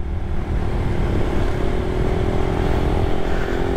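A Raider 150 carburetor motorcycle rides along a road toward Batangas, its engine droning loud and steady with a low, even hum and rumbling wind noise from close on the bike.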